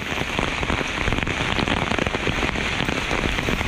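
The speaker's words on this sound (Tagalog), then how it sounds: "Sa sobrang lakas ng ulan." Heavy rain pours down at a panda pavilion in Coloane, Macau, a loud, dense, continuous patter of drops striking surfaces nearby with no break.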